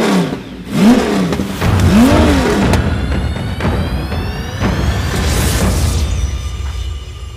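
A Cadillac CTS-V's supercharged 6.2-litre V8, 650 horsepower, revs repeatedly, rising and falling in pitch with loud roaring bursts, then settles into a steady high whine.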